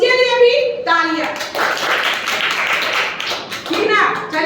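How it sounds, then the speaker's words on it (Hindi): Children at a school quiz clap for participants, a burst of hand clapping between young voices speaking and singing before and after. "तो इसके लिए भी तालियां"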